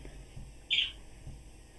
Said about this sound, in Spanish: el único que se oye es el pajarito